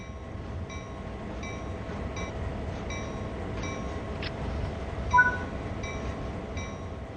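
Locomotive moving in Train Sim World 3 on the Sand Patch Grade route, a steady low rolling rumble with faint rhythmic clicks and beeps from the cab, plus a brief thump midway.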